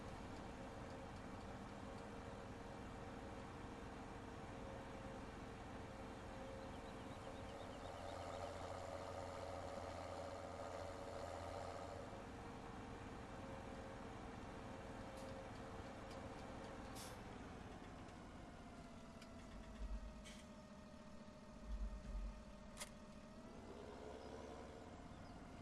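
A vehicle engine drives along in Farming Simulator 17 with a steady low drone that holds throughout, shifting pitch partway through, with a few faint knocks near the end.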